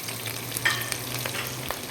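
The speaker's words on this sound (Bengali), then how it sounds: "এই মশলাটা একটু ভাজা হলে, ফোড়নটা একটু ভাজা হলে" Spices with ginger and green chili fry in a tempering for a banana flower curry, giving a continuous near sizzle with light pops and faint stirring clicks.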